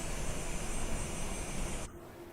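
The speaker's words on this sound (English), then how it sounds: "So APU is spooling now" An airliner's auxiliary power unit whines and roars steadily in Microsoft Flight Simulator 2020, a broad loud jet-like hum that cuts off abruptly near the end, leaving quieter cockpit ambience.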